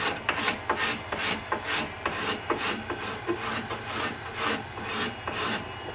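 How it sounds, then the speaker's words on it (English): A curved scraper shaves the wooden belly of a bow in repeated rasping strokes, each a short scratchy pull close to the ear, steady and unhurried with no talking. "I'm using the curved scraper on the belly just to give it that slight concave feel"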